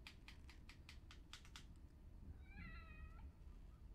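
A cat in the video game The Evil Within: The Assignment gives one clear, wavering meow after a run of rapid clicking sounds, faint and set over a low, constant game background hum.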